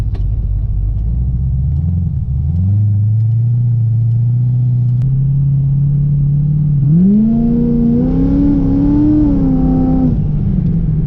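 A Procharged C6 Corvette engine idles with a deep rumble, then its revs rise in stages into a loud, climbing whine-tinged roar during a pull before dropping back, heard close and without talk.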